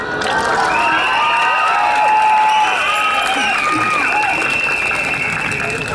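Audience at a 2011 general election rally in Janil applauds and cheers loudly and steadily for about six seconds, with whoops and shouting voices rising over dense continuous clapping.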